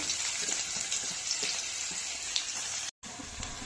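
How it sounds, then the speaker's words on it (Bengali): Dry red chilli, cumin seeds, onion and garam masala sizzle hard in hot oil. A steady, dense frying hiss runs throughout, with a very brief cut to silence near the end. "তেলটা গরম হয়ে গেছে, শুকনো লঙ্কা একটু জিরে ফোড়ন দিলাম, পেঁয়াজ দিলাম, গরম মশলা"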